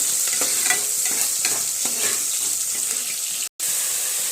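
Onions fry in a pan for a sprouted horse gram masala curry, giving a loud, dense sizzle with scraping stirs that runs on without pause apart from a brief cut near the end, with no voices.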